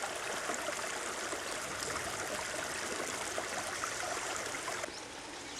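The Njoro River in Kenya flows in a steady, broadband rush of water with a trickling, gurgling texture, continuous and close, with no voices.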